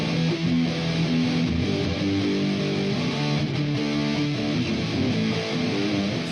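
A heavily distorted rock guitar plays a rendition of a song, a dense, continuous wall of loud, sustained chords with no pauses or talking.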